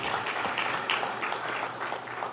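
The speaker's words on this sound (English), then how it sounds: "A general round of applause for Mr." An audience at a business summit applauds in a hall, producing a steady, moderately faint patter of clapping with no voices over it.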